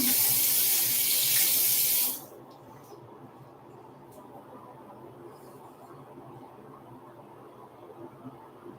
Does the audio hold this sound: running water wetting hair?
yes